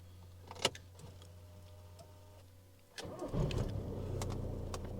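A Skoda Octavia's ignition is switched back on: a quiet interior hum, a click, then the car's systems and fans whir up steadily after a few seconds, faint and close inside the car.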